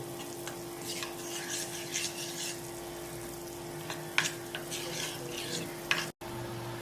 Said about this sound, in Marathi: आता हे चमच्याने मिक्स करून घेऊ